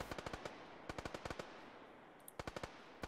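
Rapid bursts of video game gunfire crackle through a chaotic war zone, short volleys of shots in quick clusters with brief pauses between, fairly faint and with no talking.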